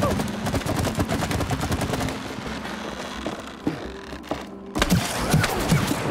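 Rapid gunfire bursts rattle in the co-op video game It Takes Two, dense at first and then breaking into scattered shots and impacts with a short pause before firing resumes.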